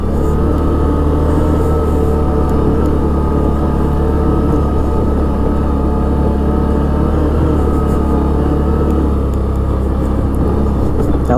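Can-Am Outlander Max 650 XT V-twin ATV engine running steadily up close, a loud continuous low rumble with a faint rise and fall in revs, crawling in low range on a steep hill, with no voices.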